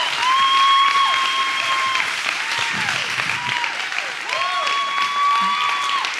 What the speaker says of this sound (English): Would you stand up on your feet and give Colby Maxwell a big hand clap?